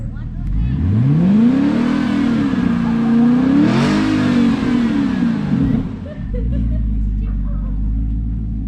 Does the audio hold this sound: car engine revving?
yes